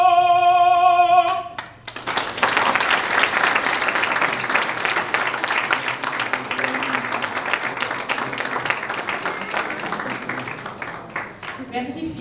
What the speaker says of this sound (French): il mérite bien vos applaudissements